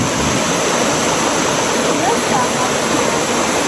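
Rushing water roars steadily and loudly, like a stream tumbling over rocks, a dense unbroken wash of sound close by.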